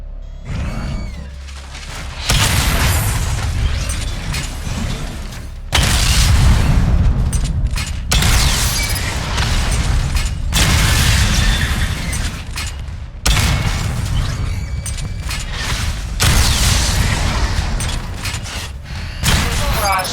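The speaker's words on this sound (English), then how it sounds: "Charge up missile barrage to level 2 and destroy 4 active targets to complete diagnostic test" Missile barrage explosions in Batman: Arkham Knight: repeated loud booming volleys of blasts and heavy thuds in bursts separated by brief lulls, with mechanical clanks and a synthetic voice speaking between them.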